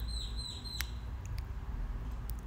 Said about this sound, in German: Hört ihr den Vogel da?